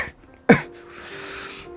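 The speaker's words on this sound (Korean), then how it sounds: "잔기침이나 좀 가래 때문에 목이 좀 불편해서 나오는 이 좀 그런 소리들은 좀 양해 부탁드립니다." A single short, harsh throat clearing or cough from phlegm bursts out during a sermon, followed by a faint lingering room noise and quiet breath.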